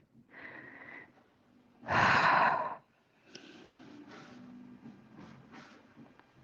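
Slow, deep breaths drawn and released through a Hatha yoga stretch held in cow face pose, with one strong, loud exhale in the middle and softer breathing sounds before and after in a quiet room.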